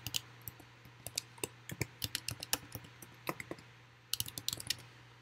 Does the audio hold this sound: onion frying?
no